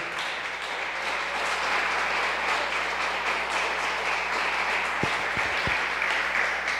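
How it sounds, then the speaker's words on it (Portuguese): A church congregation applauds steadily, dense sustained clapping from many hands filling the room, loud and continuous with a few low thumps near the end. "Então aplauda ao Senhor, no nome de Jesus"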